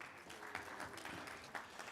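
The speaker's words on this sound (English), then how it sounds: "Round of applause for this group." Attendees at a school district board meeting give a group a short round of applause, a quiet, uneven patter of hand claps with a few sharper claps standing out over two seconds.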